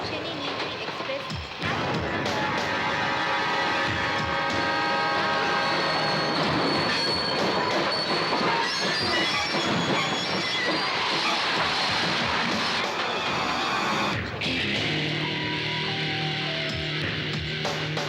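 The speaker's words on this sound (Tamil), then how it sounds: "Mettupalayam Chennai Nilgiri Express is now arriving at platform number 3." A Mettupalayam–Chennai Nilgiri Express rolls into a railway station platform, loud and continuous, with rumbling wagons, clattering wheels and squealing brakes under a station announcement and crowd chatter.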